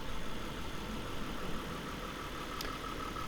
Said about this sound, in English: That's why it sounds like a direct injection engine.